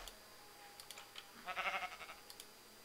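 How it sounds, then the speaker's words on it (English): Sheep bleating in a video game, one wavering bleat swelling up midway through a short, quiet stretch, faint and alone over light background hiss with a few soft clicks. "I hear a sheep."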